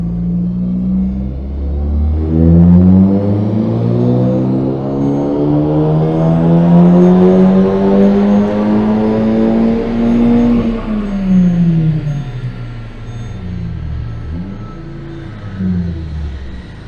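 A Mk2 SEAT Leon Cupra engine revs up steadily on a dyno in a rising, droning roar, holds high, then winds back down, loud and close.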